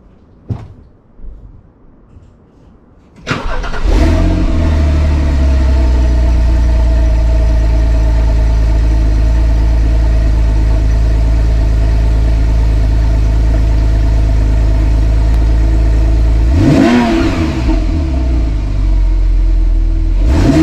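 A Porsche 911 on its stock exhaust cold-starts with a sharp catch, then settles into a loud, steady high idle recorded close behind the car, followed by a brief rev toward 3000 RPM near the end.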